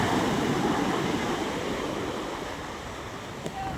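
Heavy surf churns at the Julugan fish terminal in Tanza, Cavite, a dense, steady rush of waves and wind that eases a little, with a brief faint tone near the end.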